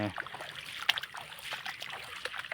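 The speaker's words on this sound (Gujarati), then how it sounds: "આડામાં પાણી જવા માંડ્યું છે" Irrigation water trickling and flowing into a farm field furrow, a low continuous babble of water with small splashes, fairly close and alone with no talk.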